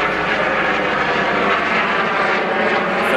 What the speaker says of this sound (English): I think it's just a police helicopter.